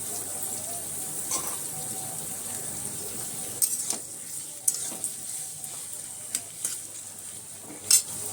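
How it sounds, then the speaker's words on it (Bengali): Chopped onions fry in hot oil for a fried-onion garnish, giving a steady crackling sizzle broken by several sharp clinks and scrapes of stirring. "তো এদিকে বেরিস্তাটা ভাজা হোক"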